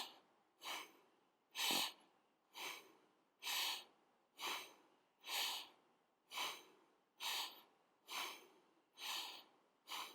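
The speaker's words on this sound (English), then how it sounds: "We will now carry the same technique into our next pranayam, which is known as the panting breath" Panting-breath pranayama in a yoga class: about ten strong, forced breaths in an even rhythm roughly one per second, close and loud, each a sharp rushing burst separated by short silences.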